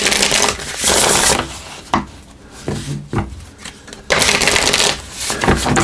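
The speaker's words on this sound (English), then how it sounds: "And then we're just going to pull from the Wisdom of the Elders Oracle here." A Wisdom of the Elders oracle card deck is shuffled by hand in quick, close papery bursts of riffling and rubbing, separated by short quieter gaps, with no talk.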